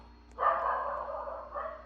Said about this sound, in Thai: โอ้หมาเห่า